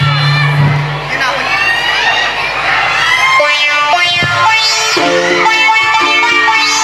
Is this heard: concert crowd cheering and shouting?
yes